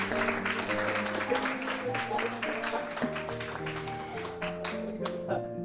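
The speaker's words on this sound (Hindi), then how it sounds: "ज़ोरदार तालियां बनती हैं।" Applause rises from an audience at a Women's Day radio event, a brisk spread of clapping over background music that carries on underneath.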